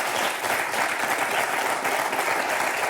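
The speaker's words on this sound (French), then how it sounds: "Je vous applaudis." Sustained applause from a studio audience on a French television talk show, dense and steady from start to finish with no pauses.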